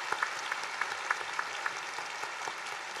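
A church congregation at a 40th anniversary service applauds a combined choir and orchestra, a soft, distant wash of clapping with a few sharper claps standing out near the start, gradually thinning.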